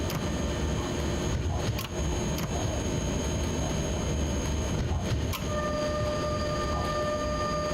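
A train runs on rails in the SimRail train simulator game, giving a steady, continuous rolling rumble with faint metallic tones and a few brief clicks from the track, and no other sound on top.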